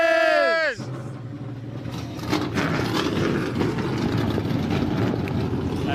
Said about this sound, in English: Always incredible to hear those engines fire up